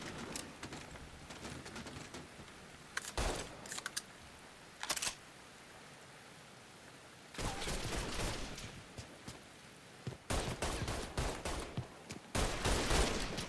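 Gunfire in the video game Mafia III comes in separate rapid bursts of shots, loud and sharp, with quieter gaps between them and no talking.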